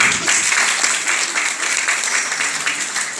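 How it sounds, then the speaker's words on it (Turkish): Sustained applause from a stand-up comedy audience, dense and even clapping filling the whole stretch at a fairly loud level. "Öğrenci Konseyi Başkanımız Sayın Barış Yaşar'a bir alkış rica edeyim"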